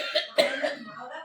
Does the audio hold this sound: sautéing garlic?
no